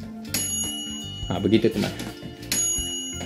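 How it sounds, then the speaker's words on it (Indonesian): Xiaomi Onemoon Rosou OA2 2.5L air fryer timer bell rings twice when cooking finishes, bright metallic dings with long ringing tails, close and loud, with a person speaking briefly between the rings. "Dan setelah selesai, dia biasa akan bunyi lonceng."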